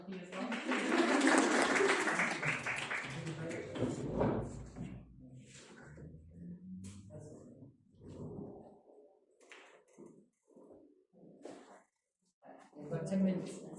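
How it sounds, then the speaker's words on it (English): Audience applause after a talk on natural disasters in Japan, a burst of clapping for a few seconds that fades into scattered voices and room noise. "And we'll give a little round of applause for Timothy as well."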